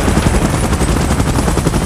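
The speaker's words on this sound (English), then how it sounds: "Chopper in position." Helicopter in the PUBG Mobile video game, a loud, close, continuous rotor throb with dense rapid chopping that stays steady throughout.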